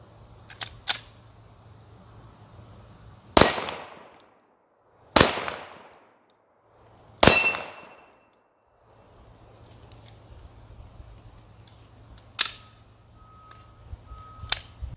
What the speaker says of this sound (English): let's load up the Walther PPQ with some 9mm ammunition and take a few shots at the gong